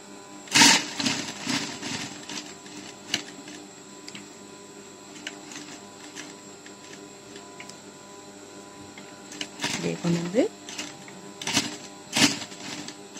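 A sewing machine stitching a hand glove in a tailoring class gives fast, close mechanical clatter in short runs, with loud sharp knocks near the start and again toward the end and no talking.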